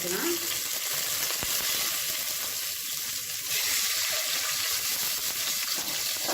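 Steady hiss and crackle of boiled eggs sizzling in hot spiced oil in a pan, with occasional soft stirring, close and continuous.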